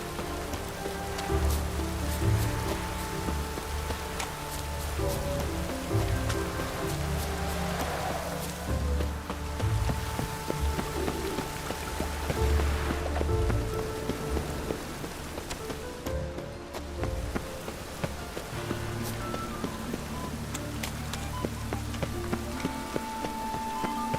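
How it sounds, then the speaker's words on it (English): Rain falls steadily in the open world of The Witcher 3: Wild Hunt, a constant wash of drops on surfaces lasting throughout, mixed with low ambient game tones and no voices. "Looks like rain."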